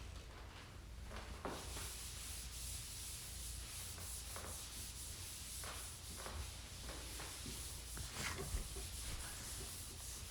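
Steady rubbing and sanding of dried drywall compound debris off a skim-coated wall. A continuous scratchy abrasion with repeated strokes runs for about ten seconds at close range over a low hum, with no talking.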